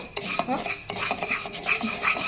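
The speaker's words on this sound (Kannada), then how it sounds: "ಒಂದು ಮುಕ್ಕಾಲು ಕಪ್ಪಷ್ಟು ಹೆಸ್ರು ಕಾಳನ್ನು ಬಾಂಡ್ಲಿಗೆ ಹಾಕ್ಬಿಟ್ಟು ಚೆನ್ನಾಗಿ ಘಮ ವಾಸನೆ ಬರೋವರೆಗೂ ಹುರ್ಕೊಳ್ತೇನೆ ಮೀಡಿಯಮ್ ಫ್ಲೇಮ್ ಇಟ್ಕೊಂಡು" About three-quarters of a cup of green gram dry-roasting in a pan over a medium flame, stirred with a metal utensil that scrapes and clinks steadily against the pan, close and continuous with no voices.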